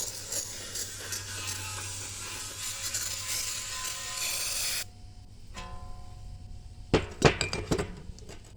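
Aerosol cleaner sprays the outside of a 700R4 transmission pan on a 1988 GMC 5.7 with a close, steady hiss for nearly five seconds. Quiet handling and a few sharp metallic clinks follow.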